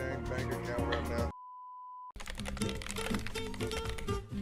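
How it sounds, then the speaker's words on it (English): Fingernails clack on a computer keyboard in dense, rapid taps, broken by a brief steady beep tone and a moment of silence before the clicking resumes. "Do you know I type with my nails?"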